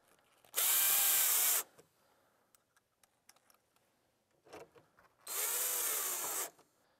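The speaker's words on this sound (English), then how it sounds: "And then you would just drive your screws back into place." A power drill drives screws back into a window coil balance, two loud whirring bursts of about a second each separated by quiet handling clicks and light taps.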